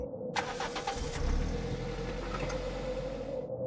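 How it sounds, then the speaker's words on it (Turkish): A car engine cranks with a quick series of starter clatters, catches, and settles into a steady low idle that runs on for a few seconds before cutting off, heard close and alone. "Arabaya vardığımda ellerim hala titriyordu. Motoru çalıştırdım."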